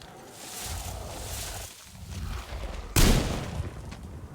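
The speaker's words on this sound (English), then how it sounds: "I could hear the echo of my gunshot" Gunfire in the post-apocalyptic shooter Metro Exodus: a sharp loud shot near the end rings out with a rolling echo over a dull rumbling background, following quieter ambient noise.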